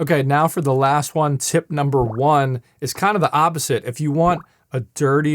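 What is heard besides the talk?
None of the usual background noises is heard.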